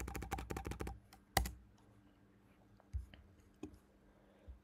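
Fingers type an amount on a computer keyboard in a rapid burst of close, crisp key clicks, followed by a single sharp tap and a few sparse, quieter clicks in near silence.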